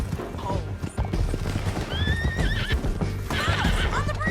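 Several loud, near horse whinnies with rising and falling pitch rise over galloping hoof clip-clops and a busy chase scene in the Western video game Red Dead Redemption 2.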